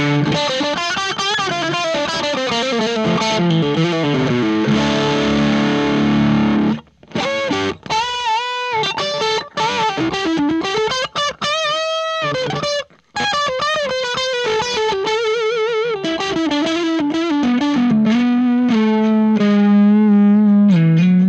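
Donner Hush-X travel guitar played through its middle pickup in active mode: a continuous, loud distorted electric passage of sustained chords and melodic runs with effects, a few brief gaps between phrases, no talking.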